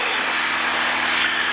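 Steady, loud drone of a small training airplane's engine heard from inside the cockpit during flight over a practice area, continuous and unbroken with no talking.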